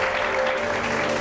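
An audience at a Hindi TV show breaks into brief, dense applause, a close and steady burst of clapping with no voices.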